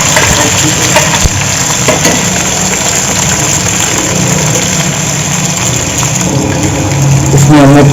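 Onions for a simple vegetable pulao fry steadily in a hot pan, a continuous broadband hiss and crackle that holds evenly throughout without pause.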